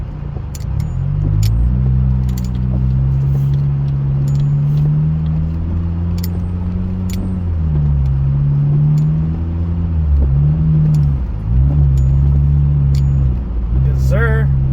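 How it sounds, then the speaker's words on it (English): A car on Bridgestone Weatherpeak tires pushes through 15–20 cm of thick snow, with a steady low engine drone and rumble that rises and falls with throttle, while someone talks throughout. "yes sir, getting through the snow. I'm in sport right now."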